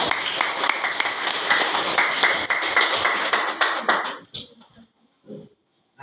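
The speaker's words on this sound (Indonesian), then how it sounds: "Tepuk tangan." Students in a classroom applaud, a dense burst of many hands clapping together for about four seconds that cuts off abruptly, followed by a few stray sounds.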